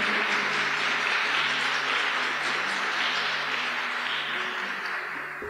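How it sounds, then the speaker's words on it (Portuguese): A church congregation at a Catholic parish prayer gathering in Limeira applauds steadily, a broad, continuous patter of many hands with a faint low hum beneath, tapering slightly at the end. "Aplaude o Senhor nesse momento."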